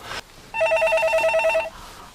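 A telephone bell rings once in a single sustained trill of about a second, near and clear, after a brief faint sound and followed by quiet.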